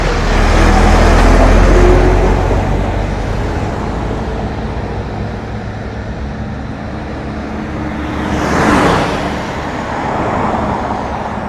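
Heavy road traffic heard from a bicycle on a Madina road toward Obhur: a dense, loud, continuous roar of cars and larger vehicles, with one vehicle swelling past nearby before the steady wash resumes.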